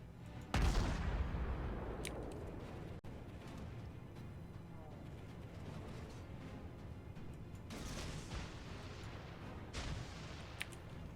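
Cruiser guns in the World of Warships video game fire a heavy booming salvo near the start, then further distant thuds follow over a steady rumbling battle ambience.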